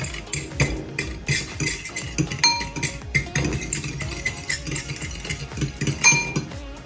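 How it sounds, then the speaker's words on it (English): Fork clinking and scraping against a bowl while mixing ingredients for sweet potato honey rolls, a busy run of rapid metallic clinks and stirring scrapes, close and steady. "we want to give this a little mix. So we're going to go with the fork"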